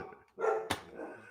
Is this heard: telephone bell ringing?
no